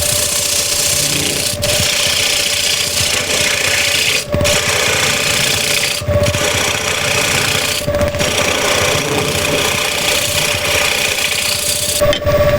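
A wood lathe spins steadily while a tool cuts away the tenon on a turned piece, a continuous loud whirring hum with scraping texture and brief periodic dips as the cutting pauses; no one speaks.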